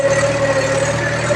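A tractor engine idles in a farm field, a loud, steady low drone with a constant hum and a faint rhythmic chugging pulse, heard close up with no talking.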